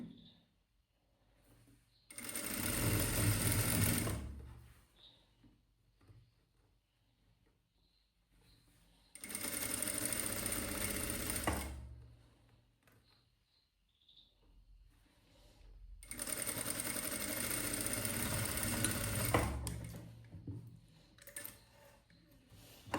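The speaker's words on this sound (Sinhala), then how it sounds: "ඒක වල කැමති ප්‍රමාණයකට මහන්න." A sewing machine stitches a darted blouse in three separate runs of a few seconds each, with near-silent pauses between them, close up and without speech.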